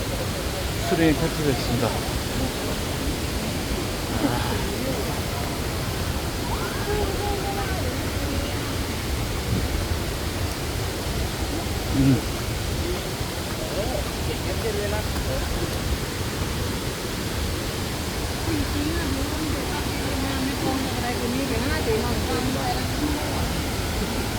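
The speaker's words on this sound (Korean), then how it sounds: "비에 폭포수의 물천지입니다 온통" Dense, roaring rush of a waterfall mixed with steady heavy rain, continuous and loud throughout, with occasional faint voices beneath.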